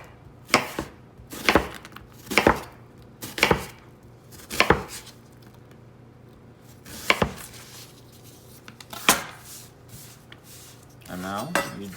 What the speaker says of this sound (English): So I like to cut the onions thin.